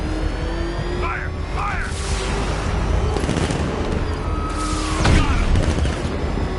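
Gunfire in the video game Batman: Arkham Knight: loud repeated shots and booming blasts rattle through the scene over steady rumbling, with a heavier burst near the end while voices shout over the action.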